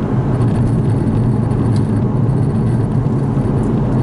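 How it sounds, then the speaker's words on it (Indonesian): Steady broadband tyre roar from a 2022 VW Golf GTI driven over a rough, uneven road in Melaka, a continuous loud rumbling wash heard from inside the cabin with no voices. "You can hear the tyre roar"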